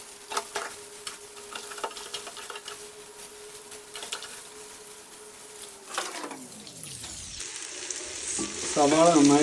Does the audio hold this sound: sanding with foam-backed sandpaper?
no